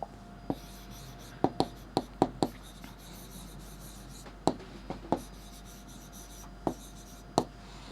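Quick taps and short strokes of writing on a classroom board during a maths lesson, about a dozen sharp marks in uneven bursts over a low steady hum, with no voices.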